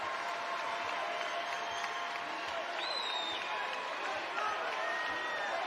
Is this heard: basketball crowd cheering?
yes